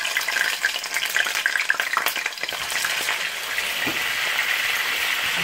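Beef liver steaks sizzle in a frying pan over reduced heat, giving a steady, close crackle with a few brief stirring scrapes partway through and no talking.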